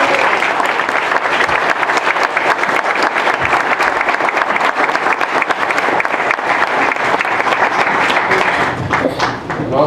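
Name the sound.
audience applause for the candidates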